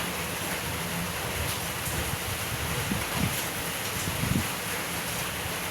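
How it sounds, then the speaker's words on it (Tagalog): Strong wind roars and buffets steadily outdoors, a continuous broadband rush with occasional low gusts thumping against the microphone. "Lakas ba naman ang hangin"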